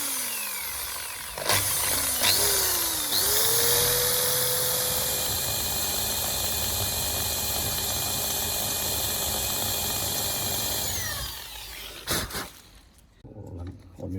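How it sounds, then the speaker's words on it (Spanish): A power drill boring a screw hole during handlebar riser work on a K1200S motorcycle, a loud sustained whine that spins up, holds steady for several seconds, then winds down, followed by brief knocks. "Entonces hay que hacer un taladro un pelín inferior al diámetro del tornillo."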